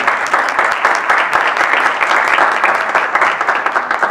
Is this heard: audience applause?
yes